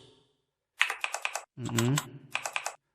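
Someone types on a computer keyboard while deleting code: quick bursts of close, crisp key clicks before and after a short stretch of talk.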